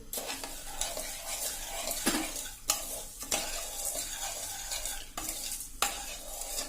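Steady scraping and stirring of sugar syrup for besan mesub in a pan with a faint sizzle underneath, punctuated by a few sharper clinks of a utensil against the metal.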